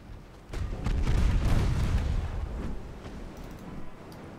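A salvo of torpedoes launched in a Greek naval campaign battle game, heard as a deep rumbling boom that swells after a quiet start, holds for a few seconds, then slowly fades.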